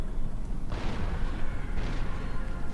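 Artillery in the strategy game Empire: Total War booms twice, each a deep heavy blast with a hissing tail, over a constant low battlefield rumble.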